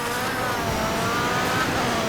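Race car engines roar in the Dirt Showdown racing game, a loud continuous high-revving drone of several cars pushing hard with faint tire scrub, steady and close throughout.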